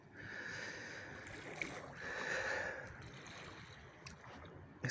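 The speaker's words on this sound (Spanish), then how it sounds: "Y ese sonido de las olas del mar." Calm sea waves at Levante beach in Águilas, a faint continuous wash of water that rises and falls gently, heard quietly from nearby with no talk.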